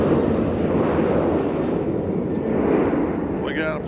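A Southwest jet departing Nashville International Airport produces a loud, broad, steady roar of engine thrust that holds throughout, with a voice faintly heard toward the end.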